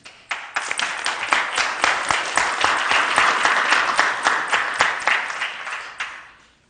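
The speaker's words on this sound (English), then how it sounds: "So please give an applause to the BSO officers that helped in that situation." Sustained crowd applause for police officers at a city commission meeting, loud and steady with dense clapping rising quickly, holding for several seconds, then tapering off near the end, no talk over it.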